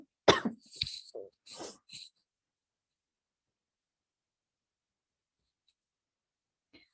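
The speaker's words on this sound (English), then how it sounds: "I'm coughing." A lecturer coughs several times in a quick burst of harsh, close coughs with a throat-clearing sound, then falls silent apart from a faint click.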